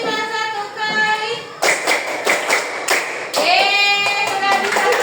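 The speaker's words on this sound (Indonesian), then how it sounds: "Tepuk lima satu kali." Classroom students clap out a rhythmic pattern together, sharp unison claps in short bursts with sung or chanting voices of children around them, loud and close.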